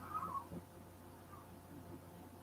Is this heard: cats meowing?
yes